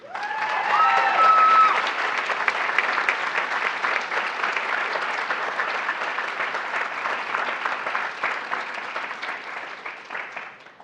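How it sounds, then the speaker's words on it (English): Sustained audience applause at an academic honors awards ceremony held in a church, a large crowd clapping steadily, strongest at first and gradually easing off. "Will you give a round of applause to Miss Raina Alston?"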